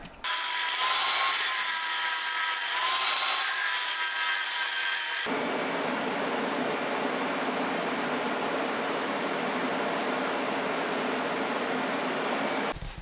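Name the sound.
grinder cutting a deep groove in metal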